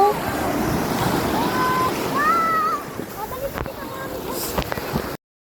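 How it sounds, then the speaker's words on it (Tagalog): Strong sea waves roll in during stormy, rainy weather, a steady wash of surf and wind noise with occasional splashes, fairly close; brief chirping tones and faint voices sit in the background. "At yan na nga medyo malalakas na nga yung alon dahil nga masama nga yung panahon ng mga oras na yan"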